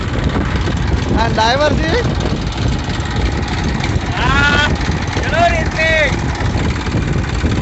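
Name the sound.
Massey tractor engine running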